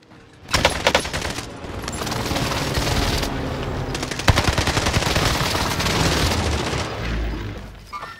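Heavy gunfire in the Rebirth Island video game: sustained, loud automatic fire in rapid bursts, with a sharp blast midway and a low boom near the end, and no voices.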